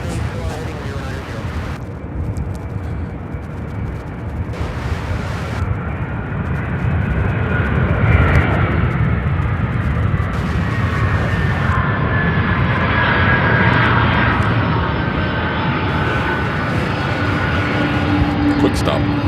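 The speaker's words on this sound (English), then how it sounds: "here it is, that MD-11 out of Memphis" A large MD-11 jet roars at an airport, a loud broad engine rumble building and sustaining as it moves, with people talking over it throughout.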